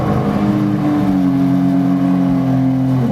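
The 300 hp engine of a shark-shaped Seabreacher watercraft revs hard and close, a loud, continuous throaty roar that rises slightly in pitch and holds steady for a few seconds.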